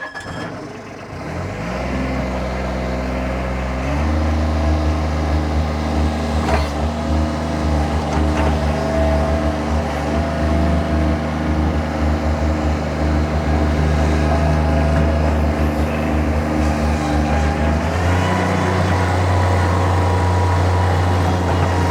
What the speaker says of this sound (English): Guys, I'm going to fire this machine up. I'm going to run it around.